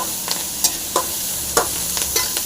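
Curry leaves and coriander frying in a pan for a bitter gourd lemon fry, a continuous bright sizzle with several sharp stirring scrapes at uneven intervals, close up and alone.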